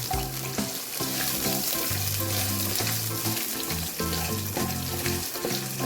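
Chopped ginger fries in hot oil while making mutton chukka, producing a steady, loud, crackling sizzle with stirring scrapes throughout.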